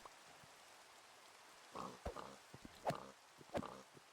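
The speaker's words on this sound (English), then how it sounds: "We're gonna spawn some pigs." Pigs oinking in a modded Minecraft world, a few short grunts spaced apart over a quiet ambient background, no talking.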